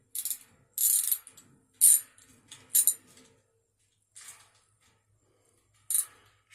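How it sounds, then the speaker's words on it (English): Bolts being fastened to mount a new motor on a Stelton 18-inch floor fan: several short metallic clicks and rattling tool bursts, close and fairly quiet, separated by pauses. "Just mounted on with these 2 bolts."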